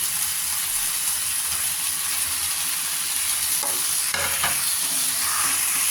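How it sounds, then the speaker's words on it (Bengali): Chicken curry with potatoes and tomatoes being stirred in a pan, a steady close sizzle with a spoon scraping through it in short strokes, no one speaking. "আর একটু নাড়াচাড়া করছি, কষিয়ে নিচ্ছি ভালো করে।"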